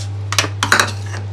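A spoon lifted out among other cutlery in a home kitchen, heard as two short, close clusters of bright metallic clinks over a steady low electrical hum.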